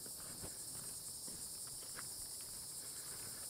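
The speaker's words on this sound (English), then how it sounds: "I love the sound of the insects here." Insects such as cicadas and katydids buzz steadily outdoors at the picnic area of Carolina Beach State Park, a constant high drone with occasional faint footsteps and rustles underneath.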